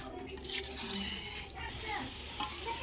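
Hot oil from frying onions is poured and spread over layers in a Hyderabadi chicken biryani pot, producing a soft sizzle with stirring scrapes and drips while a person talks nearby.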